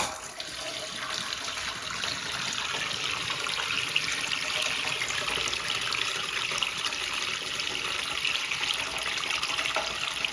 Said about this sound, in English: So this is quite the impressive flush for this little thing.